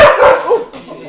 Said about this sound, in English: He's not used to barking dogs.